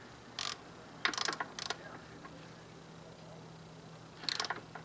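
Ratchet fitted with an extension snugging bolts on a Honda Nighthawk motorcycle during service, heard as three short bursts of quick clicking, fairly close and moderately loud, with a steady low hum underneath.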